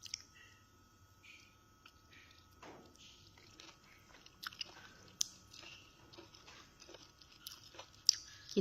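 Someone eats a simple one-plate rice meal close to the mic, with soft irregular chewing, small crunches and mouth clicks over a quiet background, with no talking.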